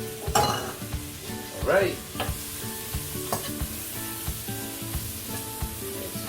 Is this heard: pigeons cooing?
no